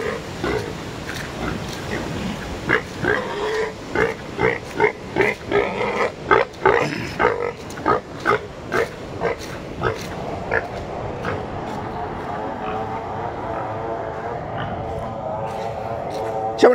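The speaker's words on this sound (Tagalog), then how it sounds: "Siya kaning baboy dere gihikot." A pig tied up outdoors after a typhoon grunts in a rapid series of loud, close oinks over about ten seconds, then falls quieter while people talk nearby.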